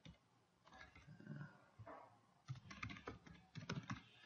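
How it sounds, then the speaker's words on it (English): Keys clatter on a computer keyboard as a search term is typed into a blogger outreach platform, with a short burst of taps, a pause, then a faster, denser run of keystrokes close up. "Let's just type in just a random keyword here."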